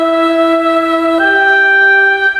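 A Yamaha Genos keyboard voice blending flugelhorn, warm horns and boys choir holds a sustained chord, then shifts to a new one midway, smooth, steady and loud with no talking.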